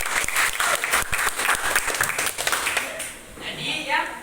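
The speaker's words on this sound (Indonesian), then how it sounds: "Kasih aplaus." An audience bursts into a few seconds of dense, lively applause, which fades as a voice starts talking over the last scattered claps.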